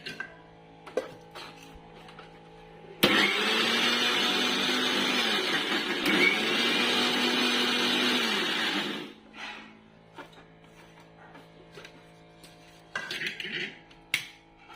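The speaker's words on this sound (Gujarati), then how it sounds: "હજી એકવાર આપણે મિક્સરને ફેરવી લેશું." A kitchen mixer grinder crushing biscuits into fine powder, whirring loudly for about six seconds in one steady burst, then stopping; quieter handling clatter before and after.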